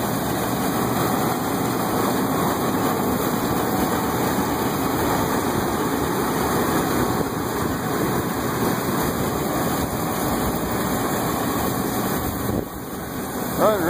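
A 1982 Massey Ferguson 860 combine harvester combining wheat, with its engine running in a loud, steady, even drone throughout and a voice faintly talking underneath.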